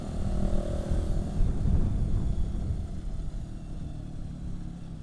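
A motorcycle with a loud, noisy exhaust drones close by, a steady rough engine roar that holds without a break and eases slightly toward the end.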